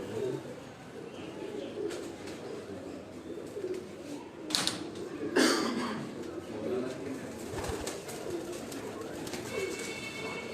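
Kot Commander breed pigeons on a rooftop loft in Sialkot coo softly amid faint outdoor ambience, with a few sharp flutters or knocks mid-way and scattered chirps from other birds, with no voices heard.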